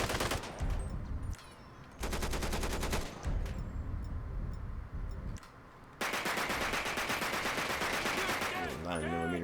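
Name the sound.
modded weapon gunfire in video game GTA V, Tec-9 9mm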